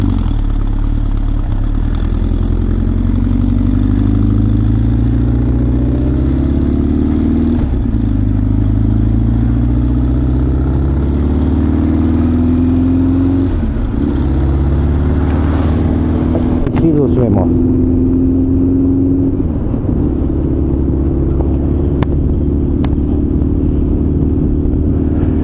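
A carbureted motorcycle with an aftermarket muffler pulls away and rides off, its engine loud and close through repeated rising gear pulls, with a rider talking over it near the start.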